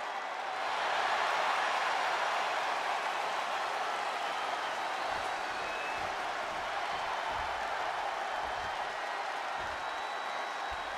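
A capacity arena crowd in the wrestling video game WWE 2K23 applauds and roars steadily for a Universal Championship match, a dense, even wash of clapping and cheering with no voices on top.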